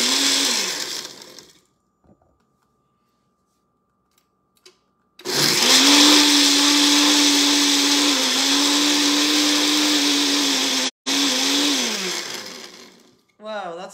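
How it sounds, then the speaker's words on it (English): A countertop blender running on its ice-crush setting for a pink drink, with a brief burst, a pause, then a loud sustained high-pitched whirring grind with one momentary cut-out before winding down. "Let's do ice crush first."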